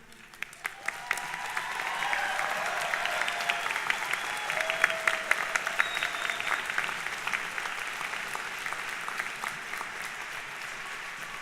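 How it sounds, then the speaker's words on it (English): A fall convocation audience breaks into applause, swelling after a quiet start into sustained, even clapping from a large hall crowd, moderately distant and steady throughout. "let's have an applause for it"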